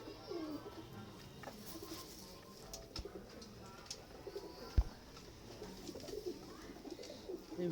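Pigeons cooing softly in a rooftop loft, low repeated coos over a faint steady background with an occasional sharp knock, fairly distant and quiet.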